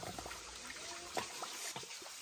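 Water trickles and splashes faintly as things are washed in a basin, with small irregular sloshes and drips, quiet and close, with no talking.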